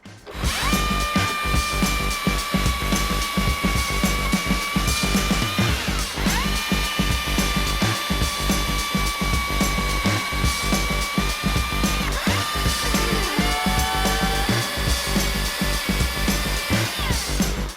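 Husqvarna 535i XP and 540i XP back-handle battery chainsaws cutting wood, a loud close electric whine that stays steady and dips in pitch as the chain bites, with a brief drop and restart partway through.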